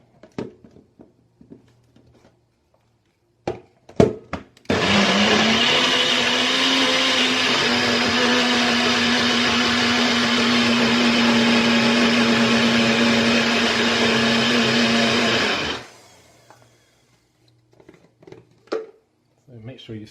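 A NutriBullet blender whirs steadily for about eleven seconds while blending a vegan cheese mixture, a loud close motor whine that starts abruptly and cuts off, with brief knocks and handling sounds before and after.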